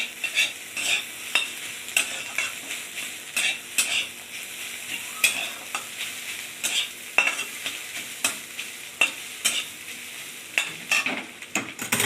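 Banana flower stirred and fried in a pan at home, with repeated sharp scraping strokes of a utensil against the pan over a steady low sizzle, close and fairly loud, no talking.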